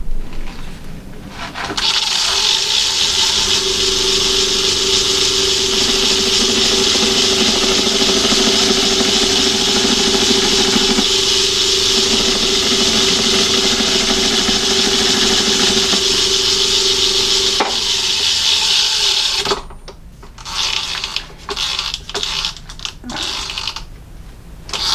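A metal lathe runs steadily while turning down a tool bit, a loud constant motor hum and whine that winds down after about twenty seconds into a few scattered clunks and handling noises.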